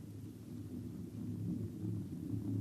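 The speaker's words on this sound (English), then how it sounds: "A herd of critters. Look, you see the dust? They're coming this way in a stampede." Thunder-like rumble of a stampeding herd of critters, staged as a radio drama effect: a continuous deep, heavy roar that holds steady and swells slightly toward the end, with no voices over it.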